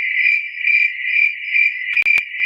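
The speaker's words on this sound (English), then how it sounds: "So if you don't want crickets playing while you're talking" A cricket chirping sound effect plays on a livestream, giving loud, steady, evenly pulsed chirps with no talk and a couple of sharp clicks near the end.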